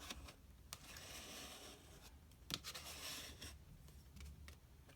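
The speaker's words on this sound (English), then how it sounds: "Let me just get my bone folder and" A bone folder is drawn along the fold of a paper card to re-crease it, making faint, soft scraping and rubbing strokes that sit close by in a quiet room, with no one speaking.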